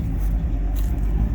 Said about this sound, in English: It's got a Flowmaster I think I put on a fresh single exhaust.